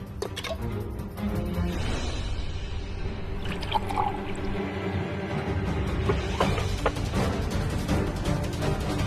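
Water poured into a glass during an indoor drama scene, a steady liquid wash running for several seconds beneath a dense, continuous backdrop of music and room sound.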